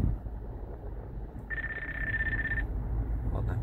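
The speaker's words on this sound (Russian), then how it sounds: "Кто-то звонит." A phone rings with one short electronic tone, about a second long, over steady road and engine noise inside a moving car.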